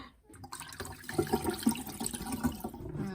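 Cold tap water running into a pot of rice being rinsed, with steady trickling, splashing and stirring sloshes close by and no voice over it.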